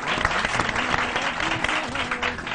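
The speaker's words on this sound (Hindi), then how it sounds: "आपकी तालियों ने बताया हम खूबसूरत लग रहे हैं" A studio audience on a morning talk show breaks into dense, sustained applause that fills the room at an even level, with a faint voice murmuring beneath it.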